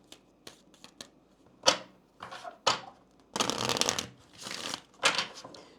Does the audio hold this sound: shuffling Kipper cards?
yes